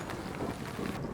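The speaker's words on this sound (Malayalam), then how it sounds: "പുറത്ത് നല്ല മഴയാണ്." Heavy rain pours outside a rooftop tent at a lakeside campsite, a steady, dense hiss with no talking.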